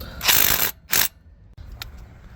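Ratchet wrench clicking as it backs out a 13mm bracket bolt on a 2005 Ford Econoline E350 Super Duty van, two loud close bursts of rapid ratcheting followed by a fainter short click.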